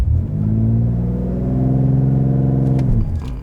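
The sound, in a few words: 2020 BMW X3M with Stage 2 tune flooring the gas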